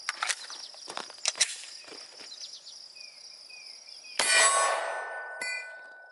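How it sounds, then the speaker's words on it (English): Sharp metallic impacts of .45 ACP rounds from a Glock 21 striking a Level 3 armor plate, a few cracking hits early and a louder ringing strike near the end, no talk. "Let's step it up to God's caliber 45 ACP on my Glock 21."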